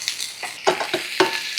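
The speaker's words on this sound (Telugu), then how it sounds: "ఇది నాకు వేగాలి." Ridge gourd frying in a pan, with a steady sizzle and a few quick spatula strokes scraping through the pieces over about a second and a half.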